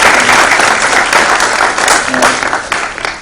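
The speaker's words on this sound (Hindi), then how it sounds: "एक जोरदार ताली उनके लिए" Loud, dense applause from a large crowd at an International Day of Yoga celebration, a continuous wash of clapping close and strong for a few seconds, with a voice faintly under it.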